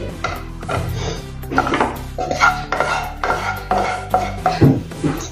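A utensil scrapes roasted gram flour out of a pan onto a plate, with loud, close clanks, scrapes and knocks of metal on cookware in an uneven rhythm.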